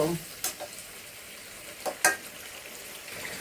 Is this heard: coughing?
no